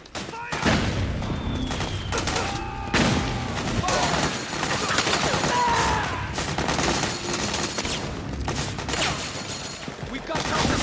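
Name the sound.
gunfire in video game Metal Gear Solid 4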